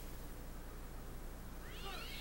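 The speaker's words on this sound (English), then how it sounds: "A damn cat." Late in the clip a cat in the 1989 film Pet Sematary gives a single faint, rising meow over a low, steady hum.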